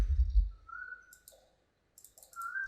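Computer mouse clicked a few times at a desk, crisp, quiet, close-up clicks spaced out with brief gaps of near silence.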